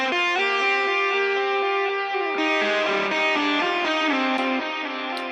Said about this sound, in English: After that, just some reverb.